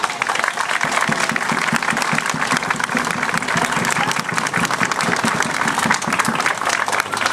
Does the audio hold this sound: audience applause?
yes